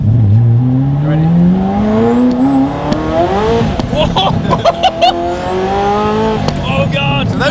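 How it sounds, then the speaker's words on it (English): Ferrari F40 accelerating hard on boost, a loud rising engine note with rear tyres spinning and squealing, followed by sharp exhaust pops and bangs; people talk excitedly over it. "So those were the rear tyres lighting up."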